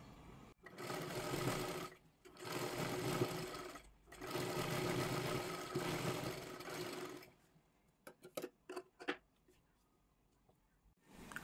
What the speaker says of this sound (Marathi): आता इकडच्या बाजूला आपल्याला इथे व्यवस्थित एक दाबटीप टाकून घ्यायची आहे